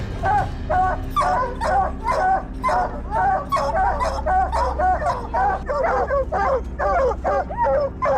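Hunting dogs in dense forest bark and yip continuously in an excited, overlapping chorus, loud and close, over a steady low rumble.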